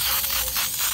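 Mod Podge clear acrylic sealer sprayed from an aerosol can over painted rocks, heard as a loud, steady, close hiss lasting the whole second.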